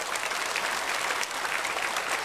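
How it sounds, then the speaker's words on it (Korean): Church congregation applauding to welcome new members during a Sunday worship service, dense steady clapping from many hands that runs for the whole span at moderate loudness. "처음은 새가족을 박수로 환영하겠습니다."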